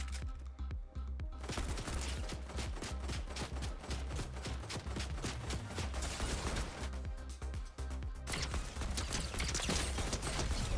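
Heavy assault rifle fire in Fortnite, a rapid run of loud sharp shots in quick bursts with short gaps, repeating steadily over the whole span with mechanical clatter between volleys.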